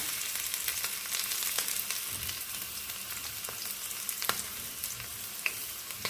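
Prawns fry Malvani style in hot oil over a low flame with a close, crackling sizzle. Scattered pops and light utensil clicks punctuate it throughout.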